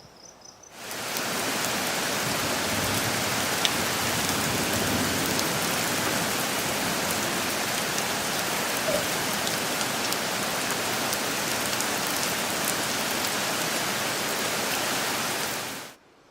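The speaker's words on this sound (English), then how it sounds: "We had a heavy downpour for about 15 minutes." Heavy rain downpour at night over a garden, a dense, steady hiss of falling water that begins abruptly, holds constant and close for about fifteen seconds, then cuts off.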